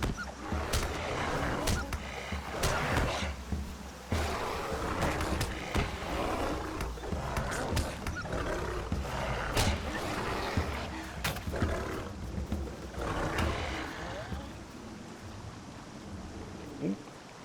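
Combat against wolves in Lord of the Rings Online, a busy game mix of growls, roars, impacts and clashing effects that runs continuously at a steady, fairly loud level, with no talking.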